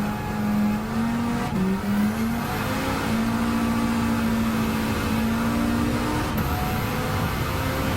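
A race car engine in Gran Turismo 7 accelerates hard and steadily, its loud, continuous note climbing through a few quick gear shifts, with no voices over it.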